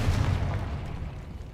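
A Confringo fire-blast spell in the game Hogwarts Legacy lands as a deep, rumbling boom that rolls on and slowly fades over about a second and a half.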